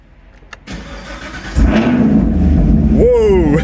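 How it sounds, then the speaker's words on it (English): A Camaro SS 1LE engine with an MBRP axle-back exhaust cranks and catches, then settles into a deep, loud idle rumble with a quick rev at the end. "We'll give her a start up in a second."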